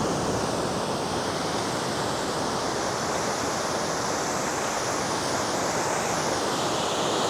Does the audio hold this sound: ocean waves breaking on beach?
yes